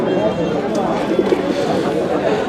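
Pigeons coo softly and repeatedly nearby at a pigeon market while people chat in the background.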